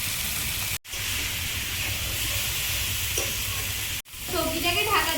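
Hard vegetables seasoned with salt and turmeric cook in a pan with a steady, loud sizzle and steamy hiss, broken by two brief drops, and a few stirring scrapes near the end.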